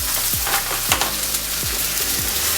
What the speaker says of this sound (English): I'm going to add about 200 grams of chopped in tomatoes in there.